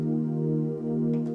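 Roland Juno DS vocal and pad patch sustaining a steady, warm chord with a soft breathy swell near the end, short and unbroken.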